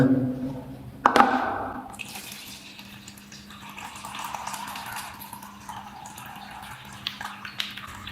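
Water is poured off soaked maize grains with a gushing, splashing rush near the start, followed by softer trickling and dripping.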